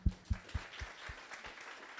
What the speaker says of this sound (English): let's clap hands for the guys that told us about the people next to them